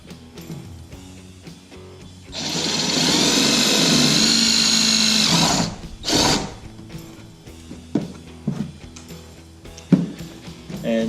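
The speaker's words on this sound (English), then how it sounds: "I'm just going to drill a hole right here in the flat spot that's already provided." A power drill bores a hole through a flat spot while fitting tubing on a Bonafide SS127 kayak: a sharp high whine that runs for about three seconds, then a short second burst, followed by scattered clicks and handling sounds.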